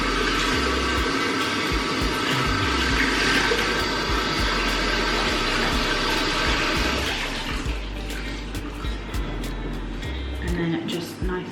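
Warm water runs steadily from a tap as a cloth is readied to wipe off a face mask during a night-time skincare routine, a close, continuous rushing that eases off near the end.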